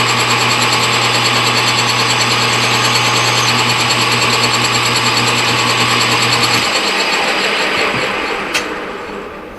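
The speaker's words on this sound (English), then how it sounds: "I'm going to center drill it." A lathe center drilling metal: loud, steady machine whine with a constant low hum and grinding metal noise, continuous throughout, the low hum stopping near the end.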